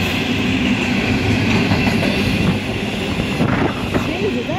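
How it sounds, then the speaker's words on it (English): A train rumbles steadily past close by at Unanderra, its wheels clacking over the rails in a loud, continuous roar, with faint voices underneath. "Wait, that's not a normal train."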